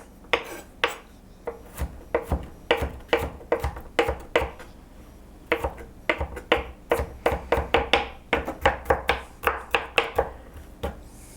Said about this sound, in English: now what I'm going to do is I'm just going to mince up this garlic